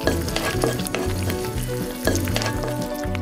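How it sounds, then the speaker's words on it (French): Meat and sauce sizzle and bubble in a hot pan for pasta, with a few clinks of a utensil stirring, close and continuous. "Verse la sauce et fais-la revenir légèrement."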